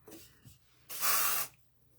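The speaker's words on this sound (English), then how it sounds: "She's got a powerful spray." One strong hiss of an aerosol spray lasting about half a second, close up, preceded by faint handling sounds.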